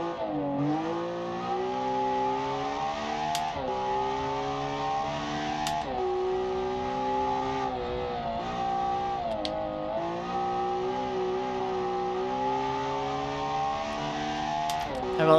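Simulated race car engine in BeamNG climbing Pikes Peak, revving steadily high with repeated upshifts and dips through long corners, loud and continuous with no voices.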